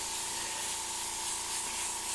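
An airbrush sprays paint in one steady, unbroken hiss, close and fairly loud, with a faint tonal whine underneath while edges are painted around gold leaf on a leprechaun skull.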